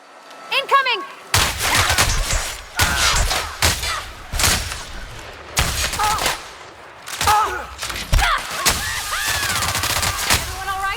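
Bursts of rapid gunfire ring out in the video game The Outer Worlds, loud and close in several volleys separated by short gaps, with shouted voices at the start and between shots.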